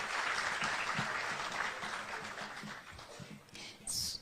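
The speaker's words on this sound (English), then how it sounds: "Let's give another round of applause to our" Sustained clapping from a crowd at a KICC meeting for the panelists, a dense spread of hand claps that gradually thins out, with faint voices underneath.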